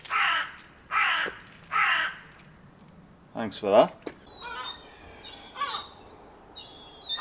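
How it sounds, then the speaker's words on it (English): Gulls calling repeatedly in loud, harsh bursts near the start, followed by softer scattered cries, with someone briefly talking partway through. "Wish these fucking birds would die."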